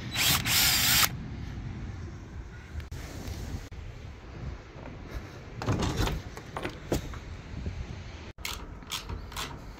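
A power drill whirs in short bursts, the first one loud and high, followed by quieter mechanical grinding against steady wind noise.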